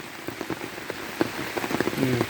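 Heavy rain pattering steadily on a flooded garden, dense close drops with small splashes, no voices.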